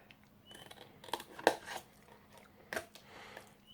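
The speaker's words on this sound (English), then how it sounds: "Trim all the way down there." Scissors trimming paper for a handmade chocolate or candle holder box, with a few crisp, close snips and rustles scattered over a faint steady hum, one cut sharper than the rest.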